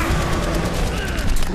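A turret in the video game Overwatch fires a dense, rapid burst of shots close up, crackling steadily amid other game gunfire with a voice talking underneath.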